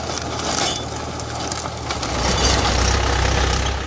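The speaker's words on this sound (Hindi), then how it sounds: "उन्होंने पूरे खेत में ट्रैक्टर चलवा दिया" A tractor working across a cabbage field drones with a low, steady engine rumble that swells slightly toward the end, continuous and fairly close, with no voices.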